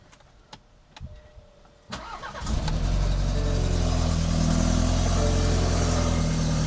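A stage 2 BMW G20 330i, with a freshly replaced battery, is started. A few faint clicks come first, then the engine turns over and catches after a brief hesitation, settling into a loud, steady idle close by.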